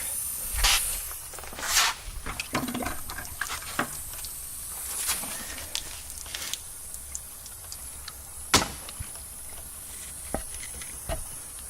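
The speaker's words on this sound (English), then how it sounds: "Turn the valve on just a second. Get the air out of it." Air hissing from a valve that has been turned on briefly to bleed it out, in gold and mercury separation gear, heard as a broad steady hiss with scattered sharp bursts and clicks, no talk.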